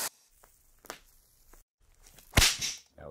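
Whip-crack sound effects for a commercial mix, with a few faint swishes and snaps followed by one loud, close crack with a rough trailing tail near the end.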